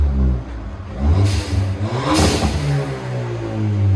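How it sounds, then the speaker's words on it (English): A Ford Fiesta ST engine revs up twice in sharp bursts, each ending with a hissing whoosh from a blow-off valve louder than the exhaust, over a steady low idle rumble. "You can hear the blow-off valve. The blow-off valve is louder than the exhaust."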